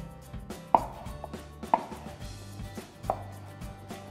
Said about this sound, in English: take the stems off, and then just chop the fig